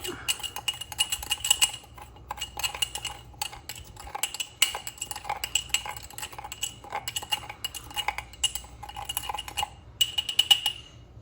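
Soda ash scooped into water and stirred for a cold-water dye job, giving a steady run of close clinks and scrapes of a utensil against a container for several seconds with no talk.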